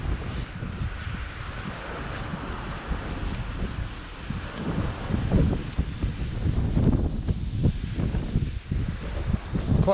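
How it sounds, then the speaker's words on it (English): Gusty wind buffeting a microphone on a cold, windy winter morning walk outdoors in Old Southall, a steady loud low rumble and roar with fluctuating gusts throughout, no talking. "Quite cold and windy this morning. Hopefully the wind's not going to affect the audio too much."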